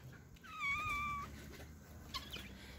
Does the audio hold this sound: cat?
yes